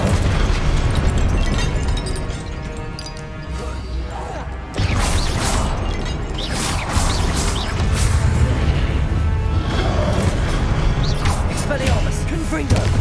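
Confringo spell blasts fired in the video game Hogwarts Legacy, a dense run of loud booming bursts layered over busy game effects and music, with a voice heard at points.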